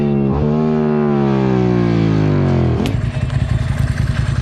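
A loud motorcycle engine drones close by, its pitch sliding steadily down, then shifting into a rougher, rattling idle.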